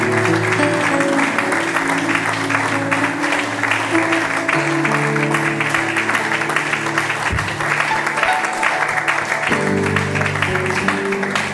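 A church congregation claps loudly and continuously in a dense, sustained round of applause, with crowd noise and a voice faintly mixed underneath.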